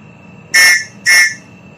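Two sharp blasts of a whistle sounded as a signal, each lasting a fraction of a second with a short gap between them, loud and close against a quiet background.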